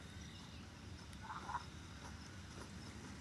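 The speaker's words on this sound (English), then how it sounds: "Aw, friendly frog." A frog croaks in a short, faint burst midway through, against a steady outdoor background hiss with no talking.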